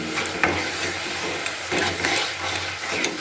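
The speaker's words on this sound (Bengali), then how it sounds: "মিক্সিতে বেটে রাখা যে চালের গুঁড়োটা ওটাকে এর মধ্যে আমি দিয়ে দিচ্ছি দিয়ে ভালো করে এটাকে নাড়াচাড়া করে নিতে হবে" Rice flour stirred into melted sugar in a pan for nolen gurer sandesh, with a steady soft sizzle under repeated scraping strokes of a spatula, close and rhythmic without talking.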